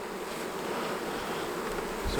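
Dense buzzing of many honeybees around a hive fills the air, a steady hum that continues throughout, fairly close and moderately loud.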